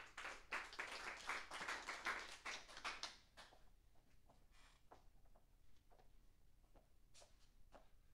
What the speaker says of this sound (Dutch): ik wil eventjes een daverend applaus